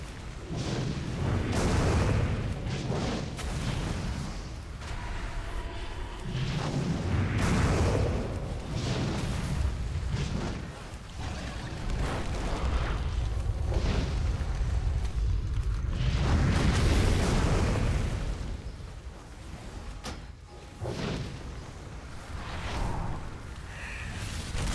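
World of Warcraft mage fire spells such as Pyroblast, heard as a continuous run of deep rumbling booms and fiery bursts that swell and fade over a dense game soundscape, loud and layered.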